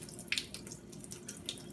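Tap water running into a bowl of brown or white rice set to soak, a faint close trickle with a few small splashy drips.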